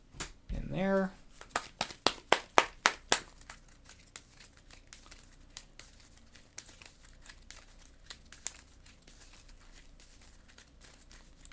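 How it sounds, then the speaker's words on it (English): Playing cards from a board game shuffled into a deck, a quick burst of crisp riffling snaps followed by softer scattered card taps and rustles, close by. "shuffle 2 cards from the bystander stack to the villain deck"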